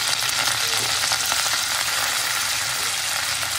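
Green chillies sizzle in a pan during home cooking of a meal maker curry, a steady, bright frying hiss that holds evenly throughout without pause.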